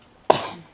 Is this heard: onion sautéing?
no